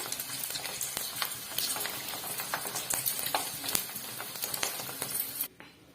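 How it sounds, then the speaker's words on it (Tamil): Delhi appalam frying crisp in hot oil: a dense, steady sizzle packed with sharp crackles and pops, fairly close and unbroken for about five and a half seconds before it cuts off abruptly. "அப்பதான் வந்து நல்லா போட்ட உடனே டக்குன்னு நமக்கு அந்த அப்பளம் நல்லா கிறிஸ்பியா பொரிஞ்சு வரும்."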